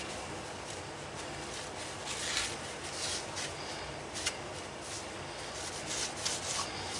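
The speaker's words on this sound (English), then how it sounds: "Wipe all the excess oils off of it." A cloth rubs back and forth along the fore end of a Browning Citori 725 Golden Clays shotgun, wiping off excess oil in a soft, continuous scrubbing with a few slightly louder strokes, close and quiet.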